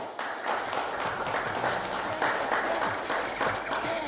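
Steady applause from a crowd at an MMA weigh-in event fills the clip, dense and continuous, with a faint voice underneath.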